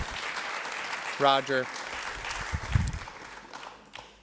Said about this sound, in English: How about another round of applause for Roger Nolan putting that together?